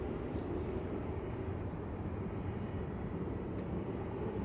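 A KLM Boeing 737-800 departs Manchester Airport at night, heard as a steady, distant jet engine roar. The low rumble holds at an even level throughout, with no voices.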